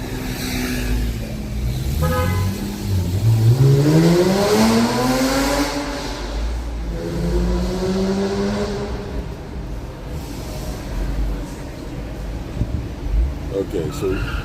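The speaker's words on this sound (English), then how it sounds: "Oh, the car's gonna move now." A car on a street in Hawaii starts to move, its engine revving up and climbing in pitch, then easing and revving again. The engine is close and fairly loud against steady background noise, and a person talks over it.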